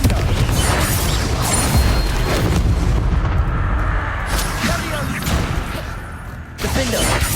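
In the Hogwarts Legacy video game, Confringo spells set off a dense barrage of loud booming blasts and crackling impacts in heavy combat. The roar stays thick and constant, dipping briefly near the end.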